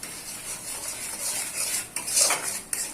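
A spoon scrapes and clinks in a pan while salt is stirred into a sizzling spice paste for Bengali parshe fish curry, close continuous stirring over a frying hiss, with a louder scrape toward the end.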